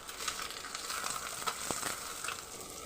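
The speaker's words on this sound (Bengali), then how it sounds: "পুরোপুরি ডিমটা না ভাজলেও চলবে, মোটামুটি করে ভেজে নিলেই হবে।" An egg frying in a pan for chicken fried rice gives off a steady, fairly faint sizzle with a few small crackles and one soft scrape.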